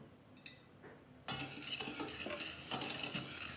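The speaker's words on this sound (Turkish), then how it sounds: "Önce toz şekerimizi karıştırma kabımıza alalım ve yumurtamızı ilave edelim. Güzelce karıştıralım." Sugar and egg stirred together in a mixing bowl for pastry cream: a utensil scrapes and clinks against the bowl in quick, close strokes after a quiet start.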